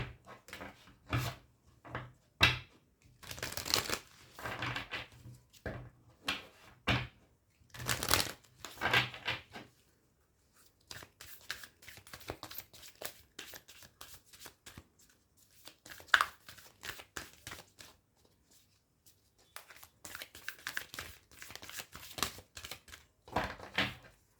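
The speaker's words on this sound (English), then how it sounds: "let me just pull out one more card for you" Tarot cards being shuffled and pulled from the deck, heard as quiet bursts of riffling and flapping card sounds in irregular clusters with short pauses between them, close to the microphone and with no speech.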